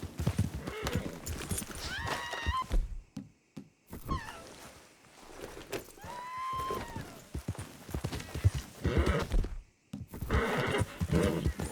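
Rhythmic hoof clip-clops mix with horse whinnies and bursts of voices in Red Dead Redemption 2, busy and fairly close, with short quiet gaps between.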